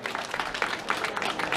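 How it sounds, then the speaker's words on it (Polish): An audience at the opening of a Polish highlander folklore festival in Żywiec breaks into lively applause, a dense, close burst of many hands clapping throughout. "Wielkie brawa!"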